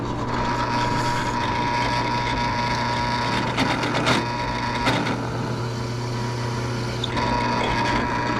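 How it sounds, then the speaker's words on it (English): Power tool chamfering a vintage race bicycle crank ring, a steady whirring machine drone with scraping and cutting noise and a few sharp clicks, close and continuous, with no talk. "we're putting the last little chamfer on now"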